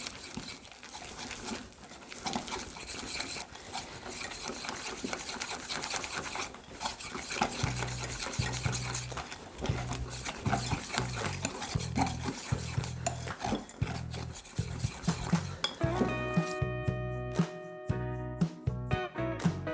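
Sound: quickly mixing whipped egg whites into yolk batter for pancakes

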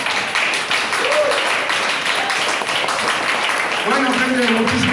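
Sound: applause for Víctor

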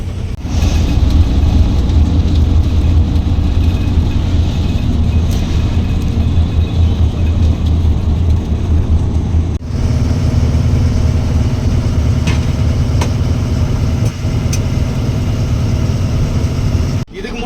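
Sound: lorry driving along a highway

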